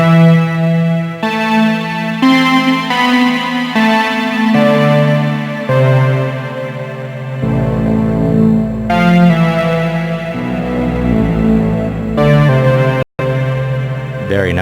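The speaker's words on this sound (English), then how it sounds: "Hear that feedback, hear that squeal." A Moog synthesizer played through reverb, sustained tones stepping between notes with long ringing tails and a building feedback squeal, loud and continuous.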